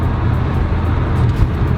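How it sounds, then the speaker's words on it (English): Renault Megane RS225 hatchback pulling hard in third gear, a loud, steady low engine roar close by that holds its level throughout with no one speaking. "This is third gear. I'll smash it a little bit,"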